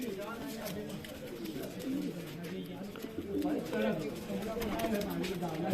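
A champion pigeon held in the hand gives soft, repeated throaty coos close by, running under steady nearby talk and light background clatter.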